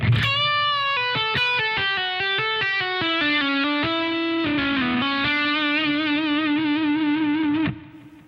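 Electric guitar run through effects with light distortion and chorus plays a fast legato phrase of hammer-ons and pull-offs, smooth connected notes descending then settling into a sustained held note before cutting off, solo and close.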